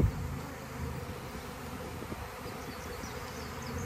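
A honeybee swarm hums with a faint, steady, continuous buzz that stays even and unbroken throughout, with no voices.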